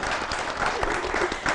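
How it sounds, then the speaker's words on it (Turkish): A studio audience on a Turkish TV show gives a brief burst of close, dense clapping that stays steady for its short length. "Alkış gönderelim mi burada?"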